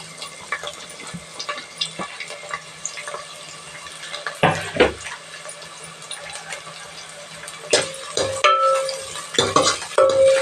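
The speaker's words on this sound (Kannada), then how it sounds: "ಎಣ್ಣೆ ಬಿಸಿಯಾಗಿದೆ ಫ್ರೆಂಡ್ಸ್. ಈರುಳ್ಳಿ, ಹಸಿಮೆಣಸಿನ್ಕಾಯಿ ಹಾಕೋತಾ ಇದ್ದೀನಿ" Onions and green chillies fry in hot oil for a village-style chicken fry, a sizzling hiss broken by louder bursts of stirring and scraping in the pan, close and irregular.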